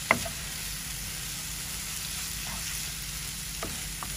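Dried bhula shrimp fry in a pan with a steady close sizzle and a few faint stirring clicks, with no talking.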